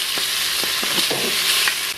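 Finely sliced onion frying in a pan, a steady loud sizzle close up with a few soft stirring knocks underneath.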